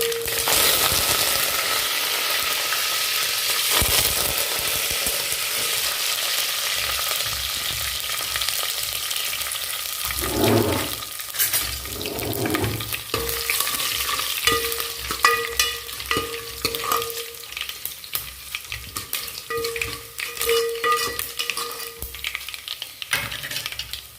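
Garlic sizzles and crackles steadily in hot oil for a South Indian tempering in a bussaru preparation, with a spoon stirring and scraping the pan now and then; it is close and continuous, with no talking.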